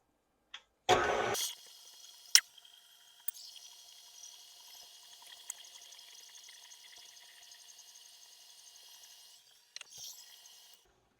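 Electric hand mixer beating cake batter at medium speed, a steady whirring hum running for several seconds after a sharp start, moderately faint, with no talking.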